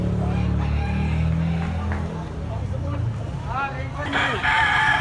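A big-sized Kelso bloodline gamecock stag with green legs crows amid people talking nearby. The drawn-out crow is moderately loud, and a short burst of other chatter and noise follows.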